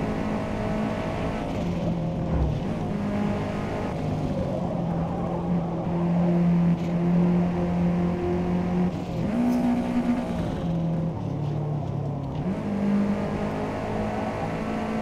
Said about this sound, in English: the car's a lot louder than the voices